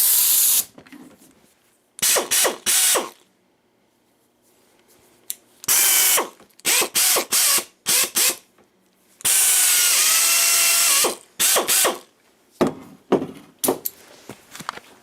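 A keyless-chuck power drill runs in repeated short bursts of loud whirring, some quick and some held for a couple of seconds, separated by silent pauses.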